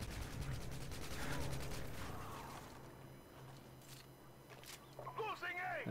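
Automatic gunfire in Modern Warfare 2, with a fast burst of shots in the first seconds, then quieter scattered noises, and someone talking near the end.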